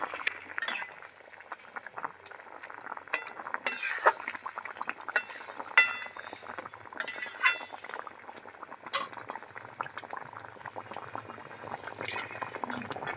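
Fried pabda fish going into a pan of bubbling turmeric-and-salt gravy for a spicy jhal, with a steady simmering hiss, scattered utensil clinks and stirring scrapes close by, no voices.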